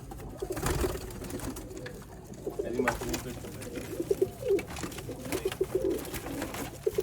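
Black-faced fancy pigeons coo in bursts, faint at first and then clearer with repeated rhythmic calls in the second half, over a noisy background with some voice-like sound mixed in.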